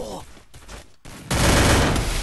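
Gunfire in a mobile shooting video game comes as a few short shots, then a brief gap, then a loud, dense burst of rapid fire that runs to the end.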